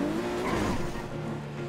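Car tyres squealing in a GTA roleplay chase, a sustained tonal screech over engine rumble that fades slightly toward the end.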